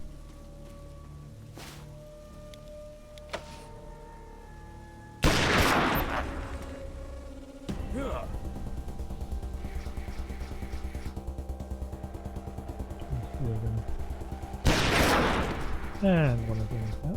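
Sniper rifle shots in the PC game Wasteland 2: two or three loud, sharp reports spaced several seconds apart, ringing over a steady bed of in-game music and ambience.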